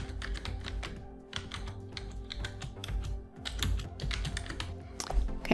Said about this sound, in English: I'm just going to start typing what I had before